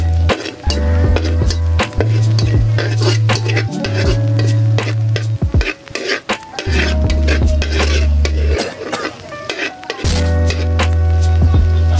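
A spoon scrapes and clanks in a pan while onion and garlic sauté, a loud, close sizzle with rhythmic metallic stirring strokes running throughout.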